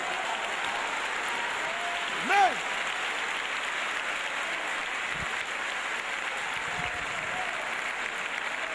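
A church congregation applauds during a Portuguese-language sermon, a steady, even wash of clapping that holds at one level from start to finish, with a brief whistle-like tone rising above it near the middle.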